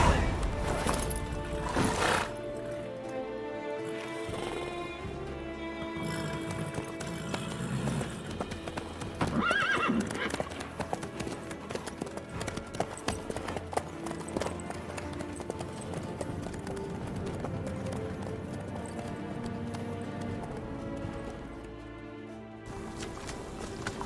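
Horse hooves clip-clop at a walking pace in The Witcher 3 video game, with steady rhythmic footfalls, an occasional neigh, and quiet background music.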